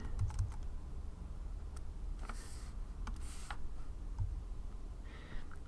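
Scattered key taps on a computer keyboard come during 3D character modeling, quiet and irregular, over faint room noise with no talking.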